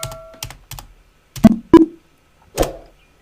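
A few distinct keystrokes on a computer keyboard during data entry in Tally Prime accounting software, sharp and close, spaced irregularly with brief pauses between them and no speech.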